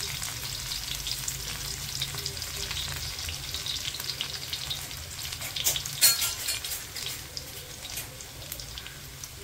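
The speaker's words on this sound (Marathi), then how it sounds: "आता याच्यामध्ये आपण लसूण टाकायचं।" Garlic sizzles steadily in hot oil while prawn sukka cooks, a continuous close frying hiss with occasional stirring scrapes and a brief louder clatter near the end, no talking.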